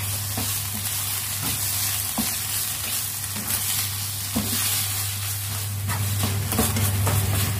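Minced meat sizzles with garlic in a hot pan, a loud, steady frying hiss with a spatula scraping and stirring at irregular intervals over a low constant hum.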